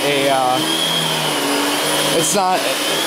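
A Fantom vacuum cleaner runs steadily on thick carpet, a loud continuous motor whine and airflow roar with no letup, while a voice talks over it at a couple of points.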